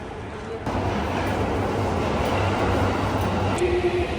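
Steady rumble of a moving train in Tokyo from inside a carriage, a constant low roar with faint rattling and a brief tone near the end.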